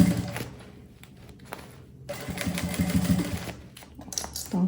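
A sewing machine stitching a puffer bag with a presser foot, running in rapid bursts separated by short pauses and soft thumps from handling the fabric.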